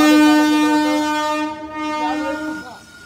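The Siddheshwar Express at Mohol railway station, with a loud, sustained train horn that holds steady and then fades and drops away over a few seconds.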